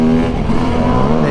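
A car engine revs hard and close for a brief moment, a loud steady buzzing roar with no talk.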